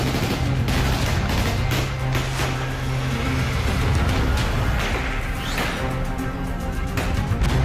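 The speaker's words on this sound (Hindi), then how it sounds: "यहां भी फ्लैग मार्च में शामिल लोगों को डराने के लिए तालिबानियों ने हवाई फायरिंग की।" Aerial gunfire by the Taliban in Kabul during a flag march: sharp distant shots crack out irregularly over a constant dense crowd roar and street noise, scattered through the whole stretch.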